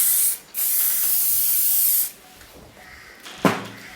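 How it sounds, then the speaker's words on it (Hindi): Hair spray hisses from a can onto hair being set in 1920s-style waves. One long, close spray runs for about two seconds, then a short second puff follows after a pause. "स्प्रे करेंगे हम।"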